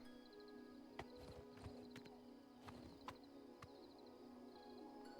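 Horse hooves clip-clopping in a fantasy role-playing video game, a steady run of sharp strikes at close range over a continuous tonal game ambience, with no talk.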